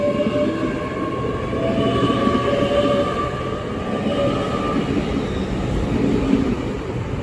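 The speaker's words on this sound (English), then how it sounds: "And now departing is the 11:57 Great Western Railway service from Great Malvern to London" A Great Western Railway service from Great Malvern to London Paddington departing Reading station, with a loud steady rumble and whine of the train moving close by, and no voices.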